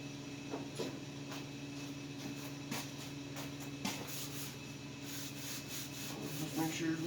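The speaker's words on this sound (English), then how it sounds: "wipe down the axle tubes while we're at it" Rag rubbing along Dana 60 axle tubes, a steady scrubbing swish with repeated strokes, moderately close, over a constant background hum in a garage.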